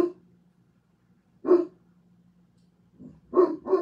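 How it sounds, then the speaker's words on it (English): Indoors, a dog barks at something outside the door in a few short, muffled woofs: one at the start, one near the middle and a quick double at the end, with quiet gaps between. "My dog is protecting us, if you can hear him barking."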